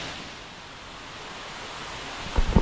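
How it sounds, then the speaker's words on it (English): Baror Parsha waterfall near Manali gives a steady, fairly faint rushing hiss with wind noise, ending in a few sharp low thumps. "This is the waterfall."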